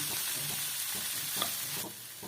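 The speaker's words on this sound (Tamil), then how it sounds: "தேங்காய் பூயும் போட்டு கிளறிடலாம்" Chana dal sundal with grated coconut being stirred in a pan, a soft continuous scraping and faint sizzle with light rhythmic strokes, close and alone without any talk.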